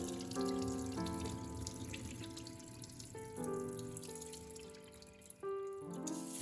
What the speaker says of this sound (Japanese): お水入れてすすいでいきますそしたらこのお水はすぐ捨てる